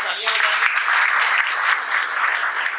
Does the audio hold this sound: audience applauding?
yes